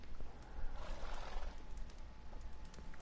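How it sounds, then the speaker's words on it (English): Roach, a horse in The Witcher 3 game, whinnies faintly among soft hoof clops and a mechanical rattle, low in level against a busy ambient background. "Walk up to your horse and press X to mount it."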